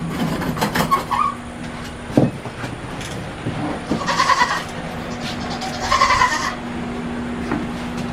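Dairy goats bleat several times during machine milking, with short nasal calls spread a few seconds apart. A steady mechanical hum runs underneath, along with occasional knocks and clatter.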